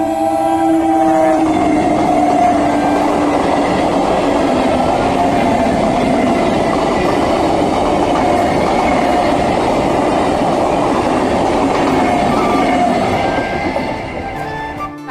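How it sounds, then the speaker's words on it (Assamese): A train rolls slowly through a railway level crossing, a loud, close, continuous rumble and rattle of wagons with a horn tone near the start, easing off at the very end. "ৰেল গেট আৰু এতিয়া ৰেল আহিছে সেইখন আহিছে পূৰা লাহেকৈ"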